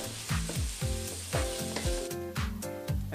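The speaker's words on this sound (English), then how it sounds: "Give it a nice mix." Quinoa khichdi with vegetables stirred in a hot pan, close up: a constant sizzle broken by regular scraping strokes of the spoon, several in quick rhythm, with no talk.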